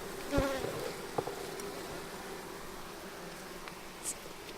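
Honey bees buzzing steadily at a hive nearby, a soft continuous drone with a few louder bees passing close, no talking.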